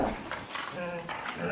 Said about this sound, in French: Les chiens toujours présents, oui.